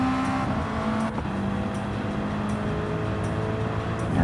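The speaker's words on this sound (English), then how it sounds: "that Beamer sounds and looks good" BMW engine in the Gran Turismo 7 racing game, a steady loud drone held throughout with small shifts in pitch as the car runs, no talking over it.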